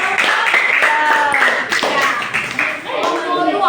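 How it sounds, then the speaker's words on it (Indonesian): Clapping for a student group during a school exam session at a junior high school in Hiliduho: dense, loud hand claps throughout, with voices calling out over them. "Tepuk tangan untuk kelompok 3."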